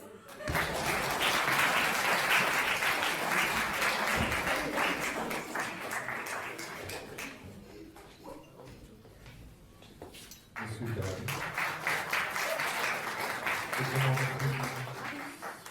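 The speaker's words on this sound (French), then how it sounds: "je vous demande un tonnerre d'applaudissements pour Tony Bélis" Audience applause at a magic show in Saint-Stanislas, Mons, welcoming a magician to the stage: dense, sustained clapping from a large crowd that thins midway and then swells again, with a voice faintly present underneath.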